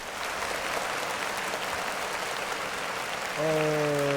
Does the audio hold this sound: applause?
yes